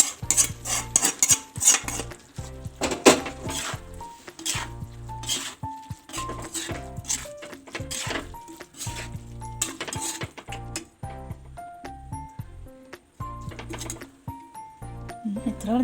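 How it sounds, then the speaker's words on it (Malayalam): A knife chops fish on a plate in a home kitchen, sharp repeated cutting taps and clinks of metal on crockery in an uneven rhythm, close and clear, with a few scattered plate knocks between strokes. "മീൻ ഇതിലേക്ക് വെട്ടി കൊടുക്കാം കേട്ടോ."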